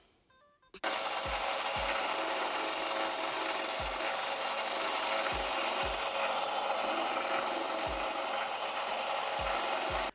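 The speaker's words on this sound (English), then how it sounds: "you can just work over the edges with the file" A fine metal file rasps back and forth over the edges of a metal badge, loud and close, with a steady scraping texture broken by a low knock at the end of each stroke, roughly every second.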